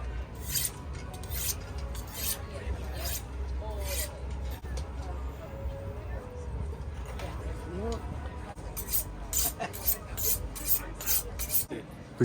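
Knife blade held against a pedal-driven bicycle knife sharpener in a mobile kitchen, a steady grinding whir with a low drone running under it and repeated bright scraping strokes toward the end, with no talk over it.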